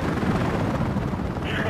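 Helicopter in the video game Battlefield Play4Free, a dense whirring rotor roar that runs steadily throughout, heard alongside rumbling game noise.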